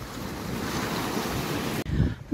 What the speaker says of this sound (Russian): Сейчас опять придет вода.